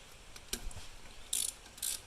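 Quiet, close ratchet clicks in short bursts as a hand ratchet works on alternator bolts in a Nissan Rogue engine bay, a few isolated metallic taps between them.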